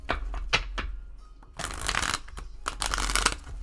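Tarot cards being shuffled by hand during a reading, a series of close, brisk riffling and flicking bursts with short pauses between them, no talking.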